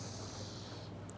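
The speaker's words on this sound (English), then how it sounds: "Take a deep inhale" A single deep yoga inhale: a soft, steady rush of breath drawn in close to the mic, quiet and airy, fading out near the end.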